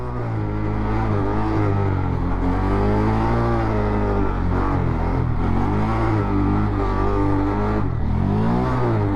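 Honda Grom motorcycle engine revving hard for a wheelie, rising and falling pitch in repeated surges, loud and close throughout.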